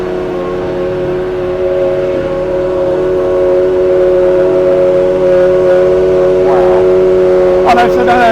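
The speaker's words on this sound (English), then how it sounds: "they've just started Hakkinen's car, the Solus GT." Mika Häkkinen's McLaren Solus GT race car engine runs at the Goodwood Festival of Speed, a loud steady high-pitched droning tone held close, with a brief rattle near the end.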